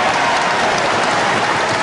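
A large crowd roars and applauds steadily at a wrestling match, a loud, dense wash of cheering and clapping with no break.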